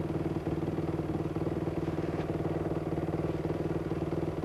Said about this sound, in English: So watch them bikes heading across that field.